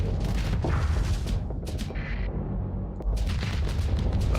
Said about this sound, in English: Don't mind that explosion in the background, it's fine.